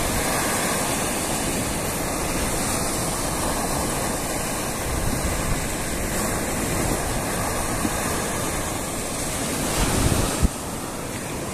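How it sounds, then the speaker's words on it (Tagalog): Large waves break and wash along a shore beside a river, a loud, continuous roar of surf mixed with wind buffeting the microphone, with a slightly stronger surge near the end. "Medyo malalaki pa rin ang alon na"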